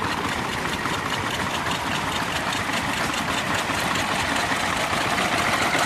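Vintage stationary engines, including Moffat Virtues, run together at a steam rally, a steady close mechanical chugging and rumble with no pauses.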